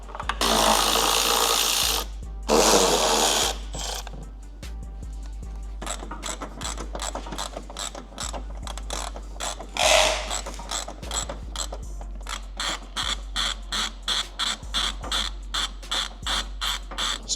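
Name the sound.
undoing Landcruiser headlight bolts with a ratchet tool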